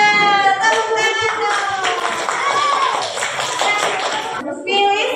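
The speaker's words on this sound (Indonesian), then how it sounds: "Tepuk tangan" Children in a classroom clap their hands in quick, uneven bursts while young voices chatter and call out loudly over and between the claps.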